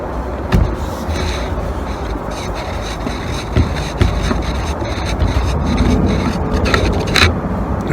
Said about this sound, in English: Right, I'm going to unscrew the silencer.